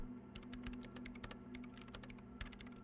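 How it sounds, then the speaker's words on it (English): Rapid, quiet clicking of keys on a computer keyboard in the video game Disco Elysium, a steady run of taps over a low hum. "her hands typing hundreds of commands into the machine"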